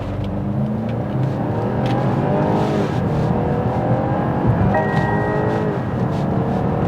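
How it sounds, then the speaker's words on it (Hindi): A BMW 530i M accelerating hard from 0 to 100 km/h on an empty road, its engine note climbing steadily and loudly through the gears for several seconds, heard from inside the car with no talking. "और ये 100 की रफ्तार आ गई"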